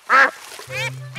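A cartoon duck in a Peppa Pig park scene gives one loud, close, nasal quack, followed by a softer, drawn-out honking call, voiced by a performer imitating the bird.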